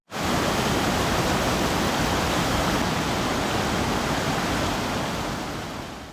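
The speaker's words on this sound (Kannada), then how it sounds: "ದಿನಗಳಿಂದ ಸುರಿಯುತ್ತಿರುವ ಮಳೆಯಿಂದಾಗಿ ನೀರಿನ ಹರಿವು ಹೆಚ್ಚಾಗಿದೆ" Swollen floodwater rushing after days of continuous rain, a loud, dense, unbroken roar that fills the whole span at close range and eases slightly toward the end.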